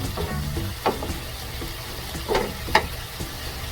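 Beef pieces for igado cooking in a pan, giving a soft continuous sizzle with a few light scraping stirs, fairly quiet and close.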